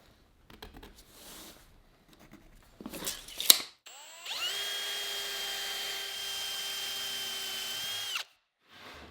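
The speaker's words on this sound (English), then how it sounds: "I'll pre-drill and countersink holes to attach the sides to the back." A power drill pre-drills and countersinks holes in plywood for attaching cabinet sides to the back of a modern dresser, with short bursts and clatter first, then one steady, loud whirring run of about four seconds that stops abruptly.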